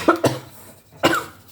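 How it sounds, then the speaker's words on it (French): A woman coughs in a few sharp, close bursts: two quick coughs, a short pause, then another, loud against a quiet indoor room. "Excusez-moi, j'arrête pas de tousser"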